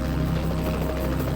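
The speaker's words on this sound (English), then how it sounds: "That's not a plane, that's a helicopter." Steady, continuous rotor drone of a helicopter flying overhead, moderately loud and even throughout with no voices.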